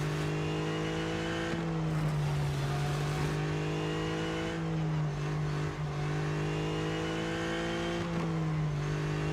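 A race car engine in Real Racing 3 revs hard and holds a strong, buzzing drone, with its pitch dipping and climbing again at gear changes, loud and continuous.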